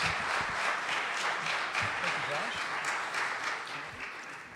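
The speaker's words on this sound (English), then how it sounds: "Please give our panelists a round of applause." Audience applause for the panelists after a panel discussion on bitcoin; steady crowd clapping with a voice speaking faintly underneath.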